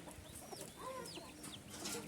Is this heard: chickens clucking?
yes